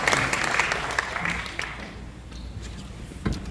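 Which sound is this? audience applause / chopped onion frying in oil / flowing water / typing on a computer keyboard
audience applause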